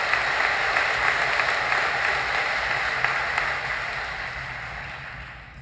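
An audience at a college of engineering and mathematical sciences graduation ceremony applauds the graduates, a steady roomy wash of clapping that gradually fades out.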